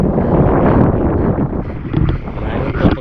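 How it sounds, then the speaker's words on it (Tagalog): Strong wind buffets the microphone in a continuous roar with gusty surges, rumbling low and loud throughout. "Mahangin to."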